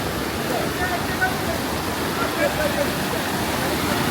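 Water flows down from a mountain in a steady, full rush of noise that fills the whole moment, close and continuous with no clear breaks.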